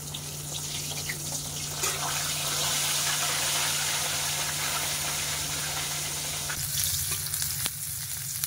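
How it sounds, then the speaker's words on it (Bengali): Fish and chopped onion fry in hot oil, producing a loud, continuous close sizzle with steady hiss and crackle, easing slightly toward the end under a low hum. "এই হচ্ছে মাছ ভাজা।"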